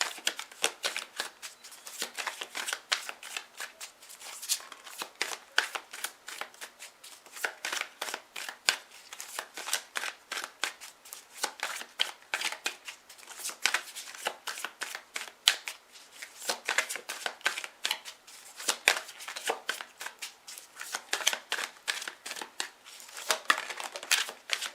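Tarot cards being shuffled for a reading, a long run of crisp, rapid riffling and flicking bursts close up, steady and alone without talk.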